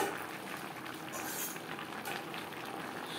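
Pumpkin stems and chopped Malabar spinach simmer in a pot, a steady, close bubbling hiss that stays even and continuous.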